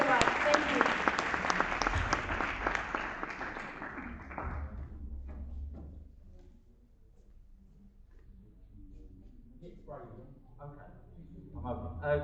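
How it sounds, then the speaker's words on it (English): Loud, dense applause from an award ceremony audience fills the first five seconds, then fades out; speech and scattered sounds follow in the quieter remainder. "May we please give him a round of applause."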